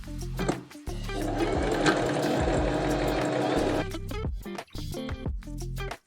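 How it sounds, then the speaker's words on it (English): A sewing machine runs a zigzag stitch along stretchy fabric, its motor whirring steadily for several seconds with short starts and stops near the beginning and end. "We're going to do a zigzag stitch along the top."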